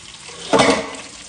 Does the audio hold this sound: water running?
yes